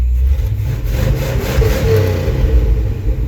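A one-ton truck's engine runs steadily after a carburetor rebuild, a loud, close, continuous rumble with slight swells in revs and no talking.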